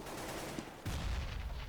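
A single AWP sniper rifle shot rings out on the Inferno map in Counter-Strike, one abrupt crack with a brief rolling tail, fairly faint against steady game background noise.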